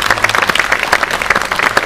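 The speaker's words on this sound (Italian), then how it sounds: "e facciamo un applauso" An audience applauds steadily at a book event with the publisher present, a dense, even patter of many hands clapping at close range with no talk over it.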